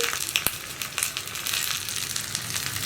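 Curry leaves crackle in hot oil with onions in a pan for a green gram curry, giving a continuous close sizzle with a few sharp pops and brief stirring clicks.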